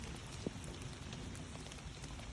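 Raindrops or leaves falling onto a surface in a forest make a steady, dense, hissing patter, with one brief louder tap standing out early on.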